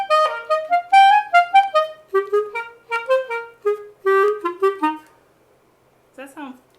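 A clarinet plays a deliberately poor staccato passage, a run of short, choppy detached notes in a steady rhythm, close and alone, followed by brief speech at the end.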